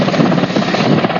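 A helicopter is heard up close and loud, its dense rotor thump and engine roar steady and continuous throughout.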